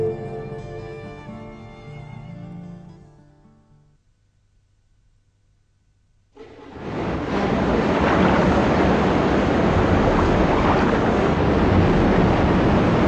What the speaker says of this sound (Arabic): شاطئ نهر النيل.